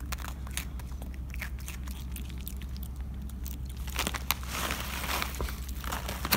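A capuchin monkey crunching freeze-dried fruit nearby, with a run of dry crisp bites and chewing crackles, growing denser and louder in the second half over a low background hum.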